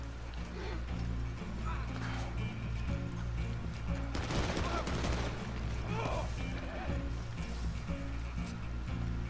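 Enemy gunfire in a shooter video game, a cluster of sharp shots crackling around the middle over constant game ambience and a low humming background, fairly faint overall.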